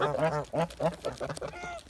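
A Kholmogory gander gives a quick series of loud, nasal honks close by, several calls in rapid succession, with no talking.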